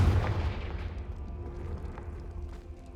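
A Confringo blasting spell from Hogwarts Legacy bursts with a loud, deep boom at the start, then decays into a long rumbling, crackling tail that fades over the next few seconds.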